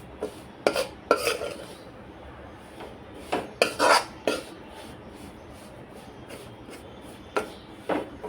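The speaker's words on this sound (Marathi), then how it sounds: "थोडं थोडं करूनच आपण नाचणीचं पीठ भाजून घ्यायचं आहे." Ragi flour is roasted with ghee in a pan, and a spoon scrapes and taps against the metal in irregular bursts, close and fairly loud, with quiet gaps between strokes and no speech.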